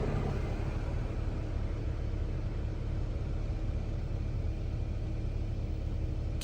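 A Toyota Camry engine runs steadily after starting, a constant low rumble with broadband hum and no clear revving, close and even throughout with no talking.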